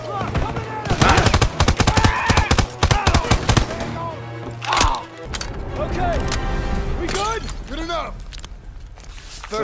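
Rapid bursts of gunfire from a World War II Call of Duty game rattle loud and close in the first seconds, followed by scattered shots and explosions under game dialogue and a talking player.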